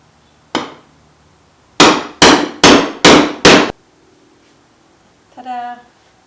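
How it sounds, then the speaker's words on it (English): A small metal stamp is hammered to punch holes in metal in a garage workshop: one sharp blow, then a rapid run of five loud, ringing strikes, followed by a brief voice. "Now I just need to poke the two holes on the side with the smallest of the stamps."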